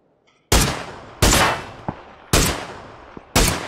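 Four loud, evenly spaced single gunshots in PUBG, each a sharp close crack with a short decaying tail, separated by quieter small clicks and near silence.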